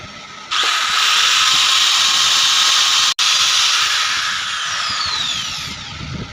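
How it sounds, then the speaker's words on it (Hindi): An electric drill bores a hole for a motor mount nut while an overlock machine motor is fitted to a flatlock machine. It gives a loud, steady close-up whine for about five seconds with a brief cut-out midway. "हम बड़ा सुराख कर रहे हैं ताकि हम चूड़ी बना लें आसानी से"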